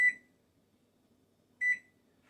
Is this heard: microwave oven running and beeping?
yes